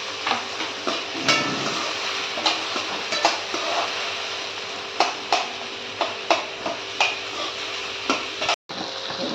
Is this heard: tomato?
yes